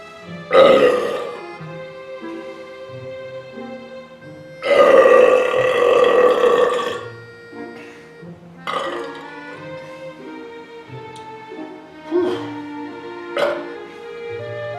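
Several loud, close belches after drinking Miller High Life beer, a short burp, then a long rumbling one lasting about two seconds, followed by smaller burps spaced out over the rest of the clip.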